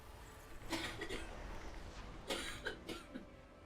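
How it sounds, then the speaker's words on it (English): A woman coughing in the background of a room, two faint clusters of short, muffled coughs set against a low steady hum. "Ignore my wife coughing in the background."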